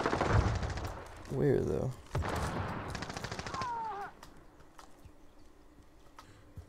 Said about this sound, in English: But they're shooting at somebody.